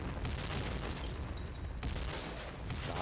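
Grenade explosions in a competitive PUBG esports match form a dense, continuous roar of booming blasts that stays loud throughout.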